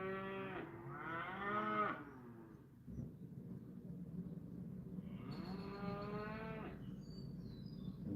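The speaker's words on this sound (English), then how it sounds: "these cows they're breeding cows" Breeding cows moo in two long, loud, drawn-out calls separated by a pause, set against a steady low outdoor rumble on the farm, with no talking.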